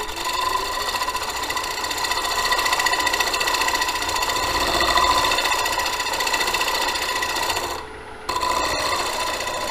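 A negative rake scraper cuts a square wooden bowl spinning on a lathe. The rasping scrape is steady and close, with a brief gap near the end before the cutting resumes.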